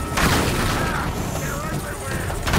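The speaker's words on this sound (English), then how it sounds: "Keep shooting and follow me!" Gunfire during a firefight in the video game Uncharted 3: Drake's Deception, with booming shots and rumbling blasts running continuously under character voices.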